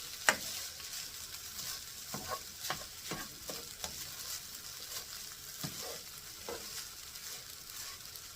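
Ground beef and fried rice sizzle steadily in a pan, with frequent scraping stirs of a utensil against the pan surface, close and moderately loud, no talking.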